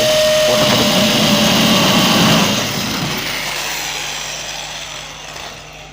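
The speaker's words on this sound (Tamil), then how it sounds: "ஸோ நான் ட்ரில்லிங் மிஷின் வச்சு போகிறேன்." A handheld drilling machine bores a hole into a tin can, a loud high whine that runs steadily for a couple of seconds and then drops off as the motor winds down, alone without speech.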